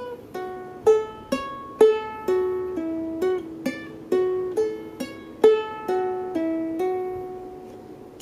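Ukulele playing a song riff, with a bouncing pattern of hammer-ons and plucked notes repeating steadily, close and clear with no talking.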